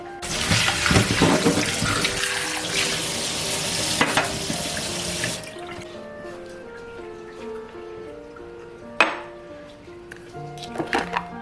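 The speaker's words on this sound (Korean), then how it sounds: "그릇을 깨끗이 씻어가지고 올게요" Running tap water splashes loudly over a pet bowl being washed in a sink for about five seconds, then stops, leaving quieter clinks of the bowl and a sharp knock near the end.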